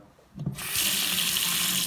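Water gushes from a kitchen tap, starting abruptly after a faint click and running as a steady, strong hiss at good pressure, close by.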